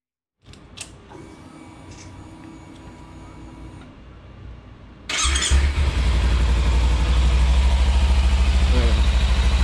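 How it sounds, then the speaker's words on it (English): A Kawasaki Ninja 300 motorcycle, just back from an oil change, hums quietly at first, then its engine fires up about halfway through and settles into a loud, steady, close idle. "we're gonna start up the motorcycle"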